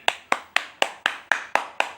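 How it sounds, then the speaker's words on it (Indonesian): Hands clap eight times in a steady, even rhythm, each sharp clap close and clear with nothing else behind it. "Kalau tidak punya, kita ganti dengan tepuk tangan."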